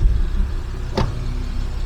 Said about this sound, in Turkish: Şu camımızı açalım.